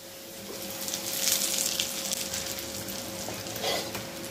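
Mustard dal and fennel sizzle in hot oil with asafoetida for a Khandeshi raw mango pickle, a close crackling fry with stirring scrapes that swells and eases over a few seconds.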